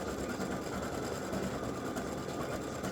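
A computerized embroidery machine stitches a free-standing lace pretzel design, a steady, fast mechanical whir with a constant rhythmic chatter running unbroken and close by.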